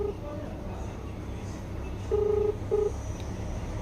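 Telephone tones sound as a mobile call is placed, a short tone at the start, then two beeps near the end, one longer and one short, over a quiet room background.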